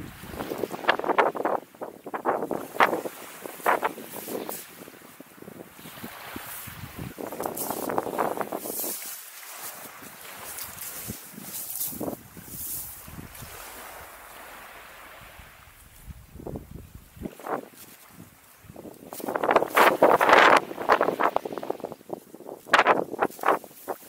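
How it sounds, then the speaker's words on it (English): Wind buffets the microphone on an exposed beach in the Thames Estuary. The roar is gusty and loud, rising and falling, with surf-like rushing underneath and the strongest gusts toward the end, and no talking. "the wind's picked up a little bit"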